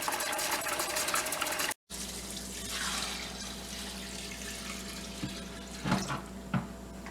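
Water pours steadily into a portable washing machine used for RV or van life, a continuous faint rushing flow broken by a brief gap, with a few soft knocks near the end.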